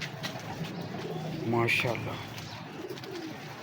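Breeder pigeons at a home loft give a clear, near coo with a soft rolling rhythm, while someone speaks briefly over faint background noise.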